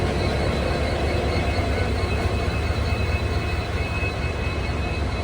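A WDP 4D diesel locomotive hauling the Gomteshwara Express on the Bengaluru–Mangaluru line, a loud, continuous engine drone and rumble held steady throughout, with no talk.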